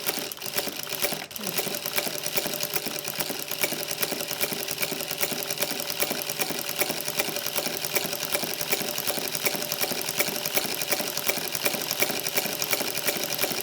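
An industrial pleating sewing machine with a pied de biche presser foot runs continuously at a steady speed, its rapid, even stitching clatter filling the space from start to finish.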